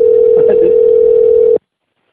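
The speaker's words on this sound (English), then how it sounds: "Why is the phone still ringing?" A single long electronic telephone tone sounds during a call to a FedEx Office store, steady and loud, then cuts off abruptly into silence.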